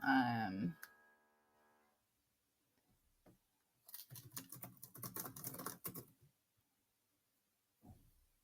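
Typing a caption on a computer keyboard: a quick burst of close key clicks lasting a couple of seconds after a brief exhale, with near silence around it.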